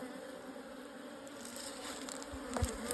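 Honey bees buzz steadily around an open beehive during an inspection, a faint continuous drone with a few louder passes close by.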